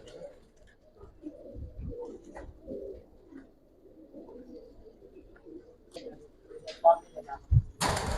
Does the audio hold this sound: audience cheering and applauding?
no